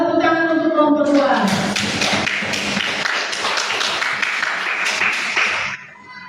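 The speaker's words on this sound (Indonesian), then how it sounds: "Tepuk tangan untuk kelompok dua." Children in a classroom clap together for a group, a brief burst of many quick overlapping claps that follows a spoken phrase and runs for several seconds before tapering off.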